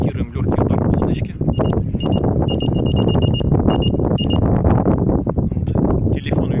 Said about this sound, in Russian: Телефон вибрирует, подает сигнал, рыбка становится ярко-красной.